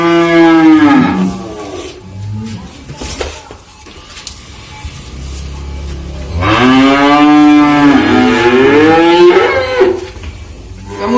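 Limousin cross bulls penned for sale low out two long, loud moos, the first short and the second drawn out after a pause, with faint clinks between.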